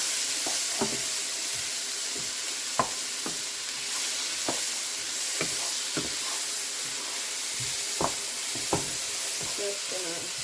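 Tomato sizzling and frying in a pan, with a steady bright hiss and a utensil stirring it in sharp scraping knocks spread irregularly throughout.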